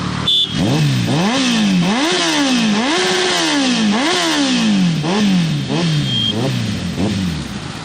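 A Kawasaki ZX-14R motorcycle engine revs hard and loud up close, rising and falling in about eight sawtooth throttle blips after a quick start, then settling lower.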